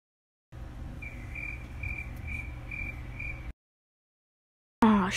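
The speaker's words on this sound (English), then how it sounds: "shut up, you stupid cricket" Cricket chirping in a steady, pulsed rhythm of repeated high trills over a low background hum, moderately close, then cutting to silence before a brief burst of other noise.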